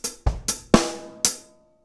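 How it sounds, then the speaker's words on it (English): Linear drum beat, close and dry: several sharp hits build to a big snare crack, then a brief pause before one lone hi-hat stroke that rings out and fades. "We're just going to hit that big snare on beat four and then a lonely hi-hat on the and of beat four."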